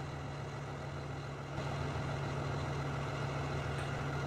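Tractor engine in Farming Simulator 2013, a steady low idling drone with a constant hum that steps up slightly in level partway through, faint and unbroken with no other sounds.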